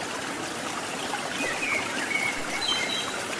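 Water from the Watu Gedek waterfall flows in a steady broadband rush, with faint bird chirps breaking through near the end.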